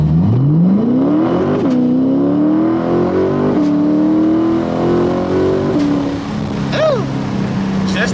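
An LS-swapped car engine revs hard and climbs through gears, loud and close, with rising pitch sweeps broken by distinct shift drops, and faint voices underneath.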